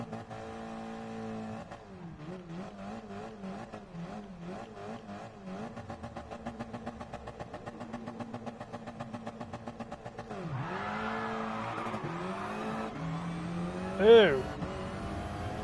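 A car spins its wheels in a Gran Turismo Sport drag race, the engine buzzing and pulsing unevenly before rising into a louder rev with a sharp squeal near the end, under a brief spoken reaction.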